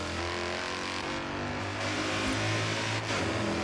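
A supercharged Mercedes C63 engine in the Forza Horizon 3 racing game revs hard inside a tunnel, a continuous loud roar that swells and echoes, with no talking.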